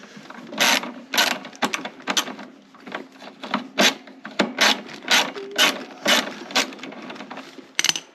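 Metal scraping and ratcheting from a screwdriver working a screw loose on the heater mechanism of a 1960 Edsel Ranger, in a steady series of short close rasping strokes with brief pauses between them.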